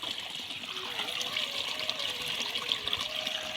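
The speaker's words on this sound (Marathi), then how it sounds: "सगळ्या व्हाळाचं पाणी खाली नदीत चालला" Monsoon runoff from a village stream gushes steadily down toward the river, a continuous broad rush of water with no pauses.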